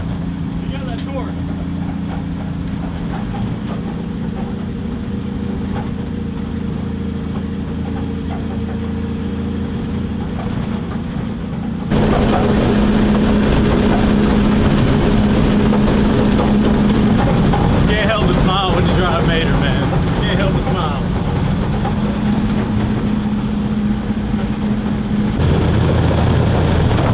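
Dodge truck engine running while driving: a steady mid-pitched drone that grows louder partway through, with people talking over it inside the cab.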